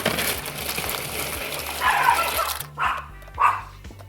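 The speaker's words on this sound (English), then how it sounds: "Hopefully the dogs don't bark again" Several dogs bark in a home kitchen while pasta is being made, a few sharp barks in quick succession standing out over steady background noise, with no talking.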